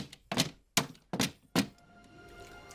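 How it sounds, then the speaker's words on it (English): Foley taps standing in for Bumblebee's robotic fingers land as four heavy, dull thunks in an uneven rhythm, close and clear, followed by a quiet room tail. "for the sound of Bumblebee tapping his fingers"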